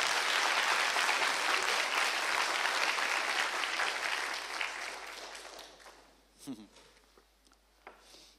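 Congregation applauding during a Latvian church service, sustained loud clapping that fades out over several seconds, followed by a few faint isolated sounds.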